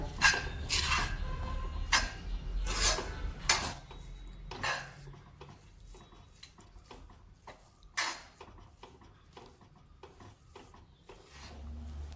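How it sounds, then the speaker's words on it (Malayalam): A sweet mixture being stirred with jaggery syrup in a pan, giving repeated close scraping and clanking of a utensil against metal, in irregular bursts that grow sparser and softer over time. "ഇനി നമുക്കെല്ലാം കൂടി നന്നായി ഒന്ന് മിക്സ് ചെയ്യാം"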